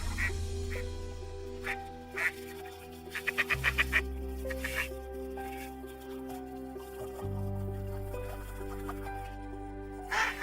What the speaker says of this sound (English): the ducks begin to become active